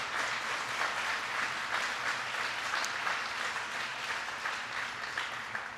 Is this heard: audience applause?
yes